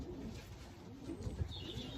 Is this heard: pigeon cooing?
yes